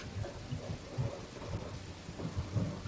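Steady rain falling with low rolling thunder rumbling underneath, a soft, continuous storm ambience with no voices.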